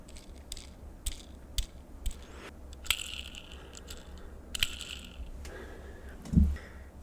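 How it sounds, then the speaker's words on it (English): Hot Wheels toy cars from a large collection are handled close up, with scattered small plastic and metal clicks, rattles and taps at irregular intervals and one heavier knock near the end, over quiet background hum. "We'll go and see if we can get some Hot Wheel sounds."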